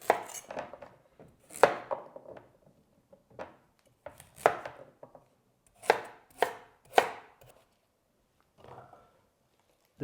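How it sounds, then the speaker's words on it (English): A knife chopping carrots into big pieces on a cutting board: about a dozen sharp, close knocks in uneven bursts with short quiet gaps between them, no talking. "So let's chop."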